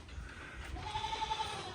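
Black Bengal goats on a farm bleat as they crowd to move from the night shelter to the day shelter, with one sustained, fairly close bleat over a steady background of other animals.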